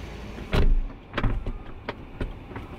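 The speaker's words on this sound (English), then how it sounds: "you do have buttons up here to close both doors" Motorised doors on a 2020 Rolls-Royce Wraith Black Badge closing at the press of a button, giving a loud thud near the start followed by a few softer mechanical clunks and latch sounds, close by with no talk.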